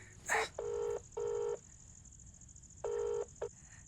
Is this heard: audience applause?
no